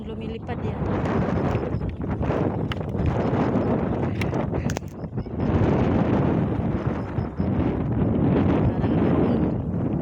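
Strong wind blasts across a mountaintop, roaring and buffeting the microphone in continuous gusts with a short lull midway, while a person talks over it.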